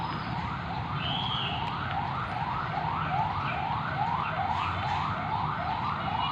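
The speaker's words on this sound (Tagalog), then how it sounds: "May ambulansya." An ambulance siren wails in a fast repeating rising sweep, steady and moderately loud over traffic rumble, with no one talking.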